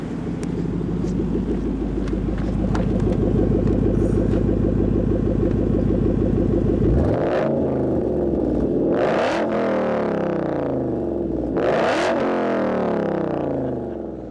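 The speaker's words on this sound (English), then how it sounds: "Let me hear the exhaust before it changes." A 2012 Ford Mustang Boss 302's loud V8 exhaust idles with a heavy rumble, then the engine revs sharply twice, each rev rising and falling back to idle.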